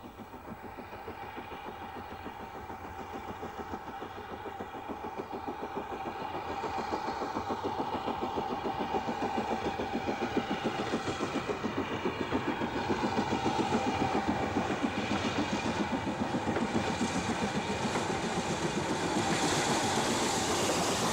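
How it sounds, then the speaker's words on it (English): BR Standard Class 4 steam locomotive 75027 hauling a freight train on the Bluebell Railway, a steady rhythmic working beat that grows louder and fuller as it nears, with no voices. "The original design of the BR4s is clearly seen on the Bluebell Railway, where 75027 was filmed on a freight train."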